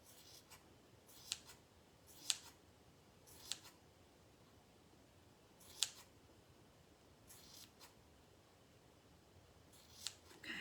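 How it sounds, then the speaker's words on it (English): Scissors snip fringe into a Dollar Tree tag sign for a snowman craft, about seven crisp, close cuts spaced irregularly over quiet background. "then I gotta cut these off, kind of long, and then I'm gonna make it fringe"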